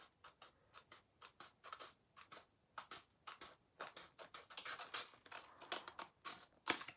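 Scissors trim a decor transfer with a run of quick, crisp snips in uneven bursts, close and dry, with no talking.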